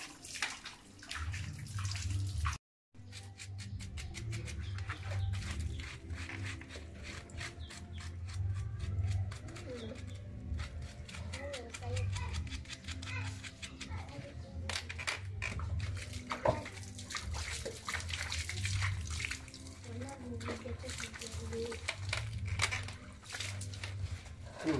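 Water runs steadily from a tap while a dog is bathed, a continuous splashing gush broken by one brief stop near the start, with occasional bird calls faintly behind it.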